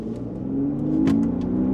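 A BMW Z4 E86 roadster engine revs hard, its steady loud drone climbing in pitch toward high rpm, close up and with no talking over it.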